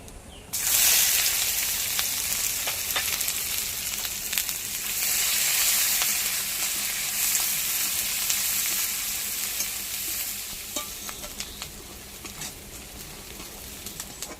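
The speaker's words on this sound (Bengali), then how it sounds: "আমি এতটা পরিমাণ পেঁয়াজ কুচু করে রেখেছি ওইটা দিয়ে দেবো" Chopped onions sizzle loudly and continuously in hot oil in a pan, a close, dense frying hiss with faint scraping as they are stirred.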